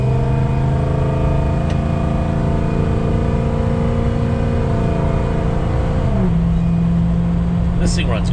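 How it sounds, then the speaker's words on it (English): A 2007 Ford F550 diesel 4x4 Lariat pulls hard to pass, its engine drone steady and loud from inside the cab, then a clear shift drops the pitch near the end, with a voice talking over it. "Really strong running truck."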